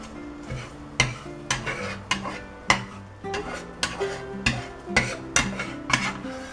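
Fluffy scrambled eggs scraped, piled and flipped in a hot pan, with a steady run of spatula scrapes and knocks against the pan over a faint sizzle, close and fairly loud.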